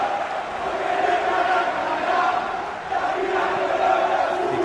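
A stadium crowd in the PES 2021 football video game at a Cabo Verde versus Argentina match keeps up a steady roar of chanting and cheering that swells and dips slightly without a break.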